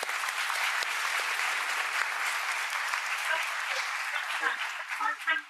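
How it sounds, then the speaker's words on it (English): Dense, steady applause from a crowd, sustained and fairly loud, thinning slightly toward the end. "Round of applause to all of y'all."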